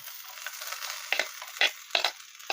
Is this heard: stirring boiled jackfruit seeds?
yes